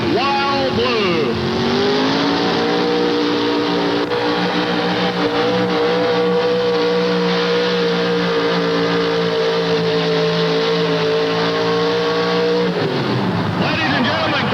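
A Chevrolet pulling truck roars loudly at full throttle through a pull at a 1988 tractor and truck pulling event in Charlotte, North Carolina, its engine climbing to a sustained high-revving drone for about ten seconds before backing off.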